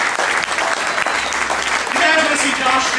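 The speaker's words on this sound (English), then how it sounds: "give our prison guard a big round of applause" A live magic show audience clapping steadily and loudly throughout, with a few voices and cheers mixed in beneath the applause.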